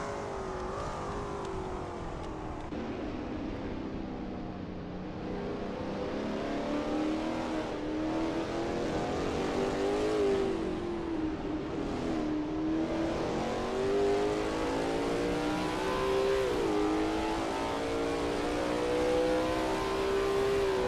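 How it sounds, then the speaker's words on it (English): A Lola T70 MkII Spyder race car engine at Spa in a racing video game drones continuously, its pitch rising and falling through gear changes and revving, loud and steady throughout. "That ASRL T70 MkII Spyder looks good driving through Bruxelles."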